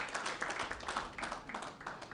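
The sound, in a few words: audience clapping for a panelist coming on stage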